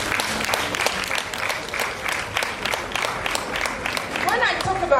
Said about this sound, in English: please could you give this special presenter a round of applause